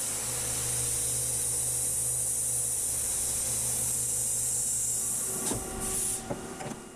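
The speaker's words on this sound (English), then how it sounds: "Here I'm using a thread mill to pre-backside chamfer these parts before they're brought to final thickness in op 2." A CNC machine runs a thread mill to chamfer the back side of metal parts, giving a steady machine hum with hissing coolant spray, then a few sharp clicks and clunks near the end.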